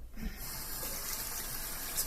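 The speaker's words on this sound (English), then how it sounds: "I'm going to wash my hands." Tap water running steadily into a kitchen sink while hands are washed, a loud continuous gush that starts abruptly and carries on without any talk.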